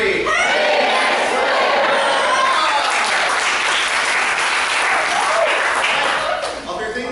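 Loud, sustained applause from an audience at a summer camp improv showcase fills the whole stretch, with cheering voices mixed into the clapping before it eases slightly at the very end.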